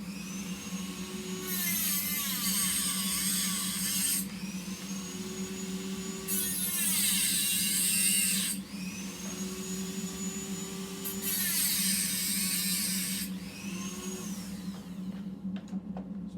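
A Dremel with a fiberglass cutoff wheel scores screws in three separate bursts, each a high whine that dips as the wheel bites in, over a steady motor hum.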